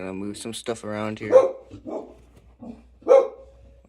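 Two sharp, close dog barks ring out indoors amid a person talking, the first overlapping speech and the second a moment later, during a fire-building session.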